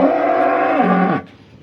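A single long moo from a pregnant Aria cow on a dairy farm, loud and close, with a drawn-out tone that drops in pitch before stopping abruptly, followed by quiet.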